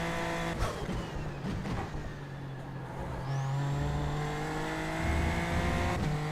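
A race car engine in a racing video game snarls through a chicane, pitch dropping under braking then climbing again as it accelerates, loud and continuous with no talk.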